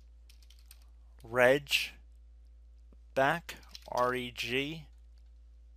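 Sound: typing commands on a computer keyboard

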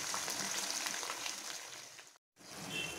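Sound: prawns frying with ginger garlic paste

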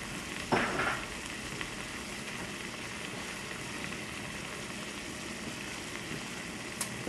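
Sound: beef and wine cooking down in a pot

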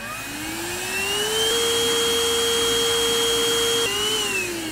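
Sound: portable vacuum cleaner running

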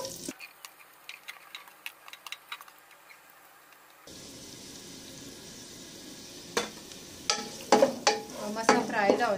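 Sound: finely chopped onion frying in oil, stirred

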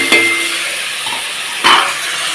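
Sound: stirring drumstick chorchori frying in pan

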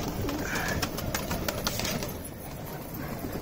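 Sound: pigeons cooing

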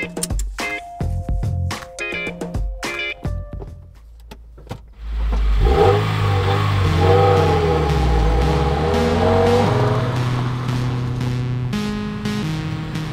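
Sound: 2020 Subaru WRX car being driven

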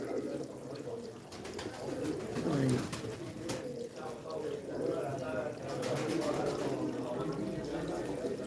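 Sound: birds cooing

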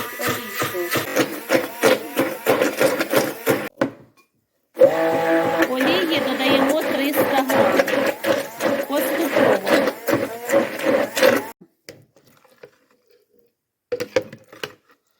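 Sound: hand blender whipping homemade mayonnaise

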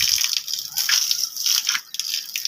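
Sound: water poured from a small bucket onto a plant

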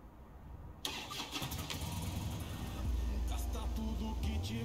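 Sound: motorcycle engine starting in a video game

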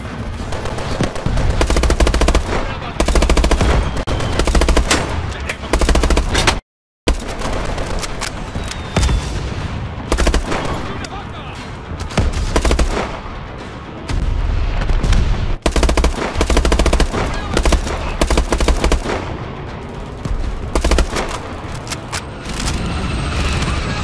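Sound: machine gun fire in the video game Call of Duty Advanced Warfare

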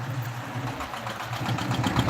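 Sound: fishing trawler engine idling at Raidighi bridge, Sundarbans

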